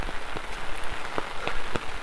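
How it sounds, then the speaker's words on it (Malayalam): Rain falls during a misty trek up Kudajadri hill, a steady dense patter with scattered louder drops striking close by. "മഴ പെയ്യുന്നു, മഞ്ഞ്,"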